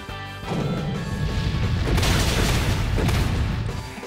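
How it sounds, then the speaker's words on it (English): Earthquake attack in the Pokémon Shield video game: after a short quiet start, a loud sustained rumbling crash builds and holds for several seconds, with a deep low roar beneath and no talk. "Koto, unleash an earthquake on these two."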